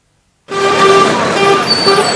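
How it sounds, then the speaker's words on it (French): Loud, sustained car horns blare over dense, congested road traffic in Abidjan on the Plateau–Adjamé route, with several overlapping honks held continuously after a brief silence. "Bruit strident de klaxons"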